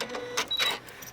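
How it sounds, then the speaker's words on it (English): A sewing machine stitches across the end of a zipper on a small fabric bag, making a few short, close mechanical bursts. "I got a sewing machine right here. It'll sew it."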